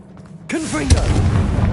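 A Confringo blasting spell explodes in Hogwarts Legacy with one sudden, loud boom. A whooshing, rumbling tail follows, and a voice sounds briefly at the same moment.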